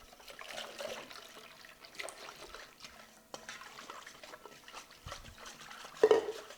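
Flour batter is stirred with water in a bowl for Vietnamese steamed rice rolls, giving soft, quiet sloshing and liquid swirls with light clinks and one brief louder knock near the end.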